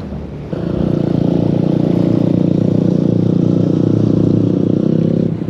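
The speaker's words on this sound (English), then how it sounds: "They're not quad bikes, they're motorbikes." Motorbikes ride along a beach beneath towering cliffs, producing a loud, steady engine drone that starts abruptly and holds at an even level to the end.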